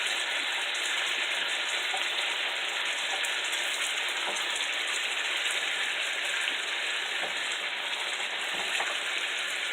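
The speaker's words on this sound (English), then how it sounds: "And then I'm going to add in our zucchini. And I'm just going to spread everything around the pan." Zucchini hits a hot pan with steady, dense sizzling and frying hiss for the whole stretch, broken by faint scraping as the pieces are spread around; no voices.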